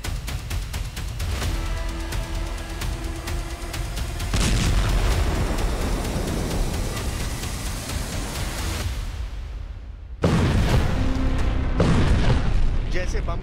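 Rocket strikes in a war zone around the Lebanon front, heavy booming blasts and rumbling bursts that hit at intervals, loud and reverberant over a constant noisy background.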